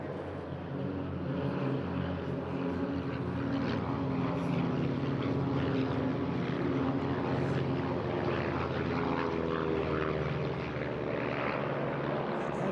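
The Twizzlers formation display team's propeller aircraft fly past at the Eastbourne International Airshow, a sustained droning engine note that rises and wavers as the planes pass, with no talk.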